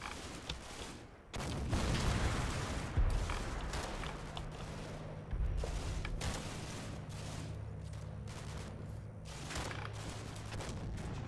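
Rifle fire from British Tommies in a Combat Mission hedgerow battle in Normandy, a spread of sharp reports over a low rumbling background, fairly steady throughout with no voices.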